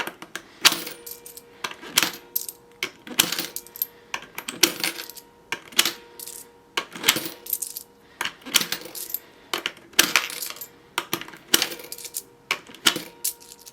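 Loose coins dropped and shuffled by hand while stuffing cash budget envelopes, a steady run of close, bright metallic clinks and jingles in irregular bursts with no talking.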